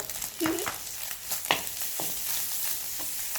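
Sizzling egg and minced pork stir-fried in a hot wok, with a spatula scraping and tapping against the metal as food is tossed, moderately close.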